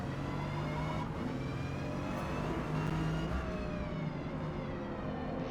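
An Acura NSX's engine revs hard in Forza Motorsport during an S-class race at Grand Oak, producing a sustained, fairly quiet, buzzing whine whose pitch rises and shifts.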